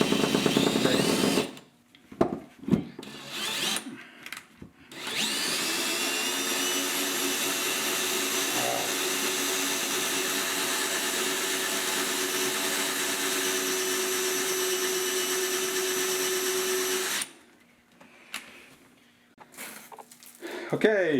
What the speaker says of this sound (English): All right, just do some drilling.